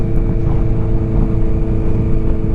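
Motorcycle engine while riding through the Bieszczady mountains in Poland, a loud, steady droning hum with constant rushing noise throughout and no voices.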